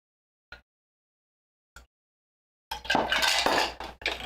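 Ice sliding into a glass of a Texas-style mixed drink: two brief faint clinks, then a louder clattering rush of cubes tumbling against glass for over a second, close up, without speech.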